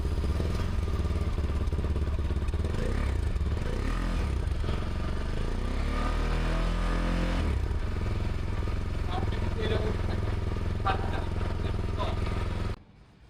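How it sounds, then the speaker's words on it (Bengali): A CFMoto 300SR sport motorcycle's 300cc engine idles and revs close by, a steady loud drone with a rising rev in the middle, running throughout before cutting off at the end. "এখন আপনাদের আমাদের 300 SR এর ইঞ্জিন সাউন্ডটা শোনাই দিই"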